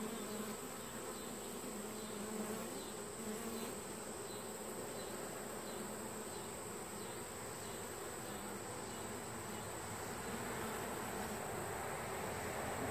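Honey bees hum in a dense, steady drone around a backyard beehive in late August, a continuous close buzz with no voices.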